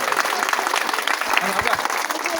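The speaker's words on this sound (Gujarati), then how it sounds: "એની ટીમ માટે તાળીઓનો ગડગડાટ થાય" Audience applause for a kitchen team at a community gathering, a steady patter of many hands with some voices and crowd noise mixed in.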